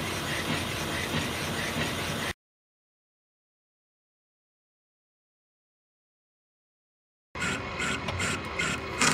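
A metal lathe bores a cast iron weight plate, giving a loud, close, harsh grinding cut with scraping chatter that stops abruptly, falls silent for several seconds, then resumes.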